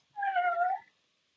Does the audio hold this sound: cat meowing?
yes